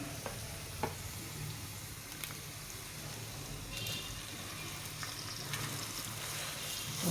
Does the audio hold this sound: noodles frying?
yes